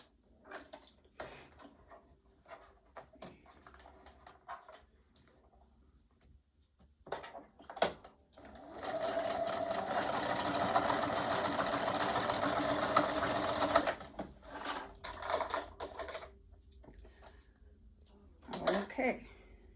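A sewing machine stitching a simple beginner project, one steady whirring run of about five seconds amid quieter handling clicks and fabric shuffling, with faint talk nearby.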